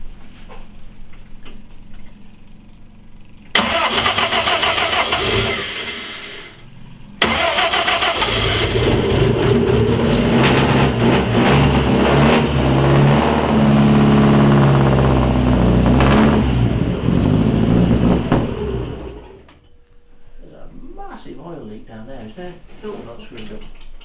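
A 1929 Frazer Nash car engine cranks on its starter, catches and revs loudly in bursts near the microphone, then drops away as people talk at the end.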